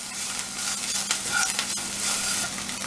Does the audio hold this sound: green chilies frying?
yes